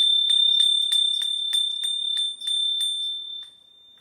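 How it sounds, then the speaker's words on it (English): Hand-made bells from Arcosanti, a desert community, ring clear and high in a steady series of bright strikes over a sustained ringing tone, then fade out at the end. "They make these bells. I thought it was pretty."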